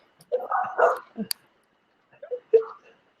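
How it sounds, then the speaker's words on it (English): A dog gives a few short barks and yips in two brief bursts separated by a pause, fairly close and mixed with voice-like sounds in a comedy sketch setting. "Hey, you got a dog, too."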